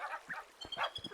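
Honking birds in the Minecraft video game, a few short nasal honks and quacks at low volume in quick irregular succession.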